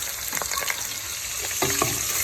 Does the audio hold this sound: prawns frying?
yes